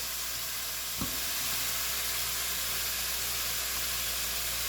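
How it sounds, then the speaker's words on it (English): Deer meat for adobo browns in a very hot pan, giving a loud, steady, close sizzle with one brief knock of the pan near the start. "Just trying to brown the meat on the outside."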